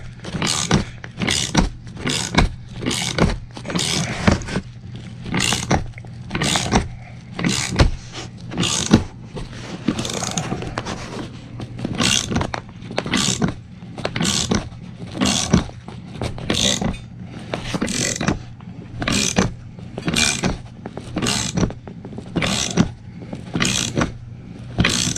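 A wheel bearing press is cranked down on an MK2 Scirocco front hub, with steady repeated ratcheting strokes, about one per second, each a sharp metallic click and scrape, close and continuous throughout.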